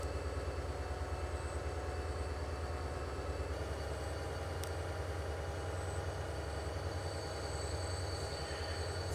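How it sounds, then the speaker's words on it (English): A freight train in the video game Transport Fever 2 rolls slowly with a low steady rumble and faint wheel squeal, a continuous mechanical drone with no voices. "that got the trains moving again, be it slowly"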